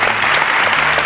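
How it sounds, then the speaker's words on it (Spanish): An audience breaks into dense, sustained applause at a televised Spanish show featuring a medieval-themed body painting parade, loud and close throughout with no voices. "Es este sincero aplauso, de verdad."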